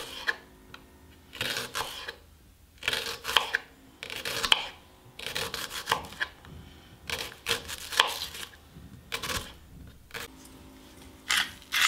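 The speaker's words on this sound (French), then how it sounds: "Je coupe l'oignon" A knife chopping an onion on a board gives repeated bursts of short, crisp cuts in quick clusters with brief pauses between them, close and moderately loud, with no voices.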